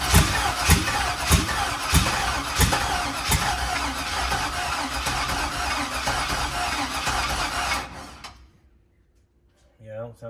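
An LS-swapped squarebody truck engine cranks and runs roughly with a loping gallop, loud and close for about eight seconds with a voice over it, then cuts off to near silence before brief talk.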